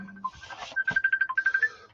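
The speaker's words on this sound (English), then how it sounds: "Someone's ringing me." A phone ringtone plays a quick repeating electronic melody of short pulsed beeps, moderately loud and close, in a quiet room during a live model-building session.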